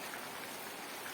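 Steady rain falls outdoors during a festival outing, a constant soft patter and hiss with no voices.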